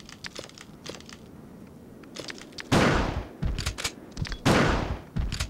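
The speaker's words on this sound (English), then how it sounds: "I'm going to shoot him." Shotgun blasts fired at an enemy in the Biohazard 2 video game: two loud, broadband booms land a couple of seconds apart, each with a lingering crunchy tail, after a stretch of quieter clicks and rustling game sounds.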